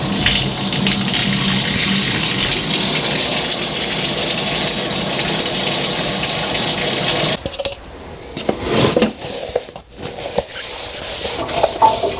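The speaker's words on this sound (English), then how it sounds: "Let's turn the hot water on there." A hot water tap runs into a sink in a strong, steady gush for about seven seconds, then shuts off, leaving close clattering and handling noises.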